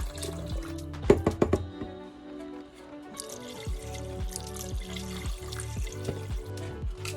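Bone broth and water pour into an Instant Pot while making French onion soup, a close, liquid splashing stream with a few sharp knocks early on, then a steady trickle.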